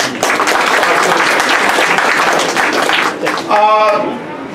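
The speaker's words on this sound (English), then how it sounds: "you really deserve a stronger round of applause" Loud, dense applause from an audience at an authors' conference and book launch, continuous for several seconds before easing, with a brief tonal sound near the end.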